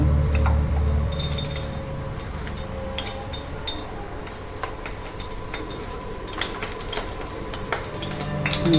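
Hot oil sizzling in a pan while a tempering for a sweet potato chutney fries, a steady close crackle broken by light metallic clinks and stirring scrapes.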